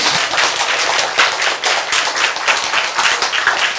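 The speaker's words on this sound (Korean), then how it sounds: "박수!" Audience clapping during a Korean lecture on cancer treatment, a brisk burst of many hands with sharp, slightly uneven claps, close and continuous across the whole stretch.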